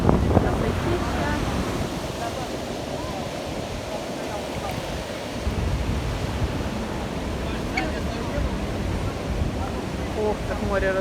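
Black Sea surf surging onto an empty early-morning beach at Anapa, a steady loud wash of breaking waves with wind noise across the microphone throughout.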